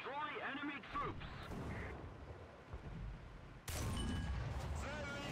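Tank cannon fire in War Thunder, a heavy booming blast that fades into rumbling, with a second loud shot following a few seconds later.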